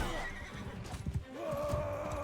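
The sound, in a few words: horse neighing in a video game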